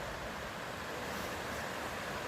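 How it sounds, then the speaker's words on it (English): Rushing water of a knee-deep creek about 15 to 20 feet across, a steady, loud broadband wash filling the whole stretch without pause, with no voices. "So this might be a better shot of the creek that I just fell in."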